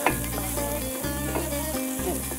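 Kavurma, pieces of meat seasoned with pepper and salt, fries in a pan with a steady, dense sizzle and crackle, briefly broken by quick stirring pauses, close and continuous.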